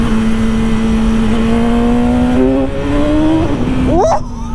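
A BMW S1000R motorcycle accelerates hard. The loud engine climbs steadily in pitch through the gears, with a brief dip at each shift, then cuts off sharply after a final rising whine.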